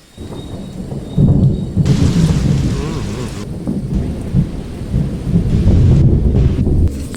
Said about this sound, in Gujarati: હા વીજળી થાય પણ ધબ વીજળી થાય છે